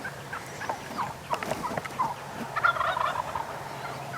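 Wild turkey toms gobble repeatedly during a spring hunt, several rattling bursts rising and falling over a few seconds, moderately near and loud against an outdoor background with no talk.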